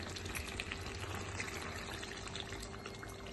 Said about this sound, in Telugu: కొన్ని వాటర్ వేసుకుందాం